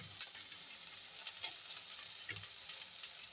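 Garlic and onion frying in a pan, a continuous bright sizzle with a few faint clinks and scrapes, close and even, no talking.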